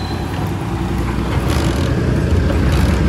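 A Maruti Suzuki car engine, started on a morning after trouble starting, runs with a steady, fairly loud low rumble throughout, no talk over it.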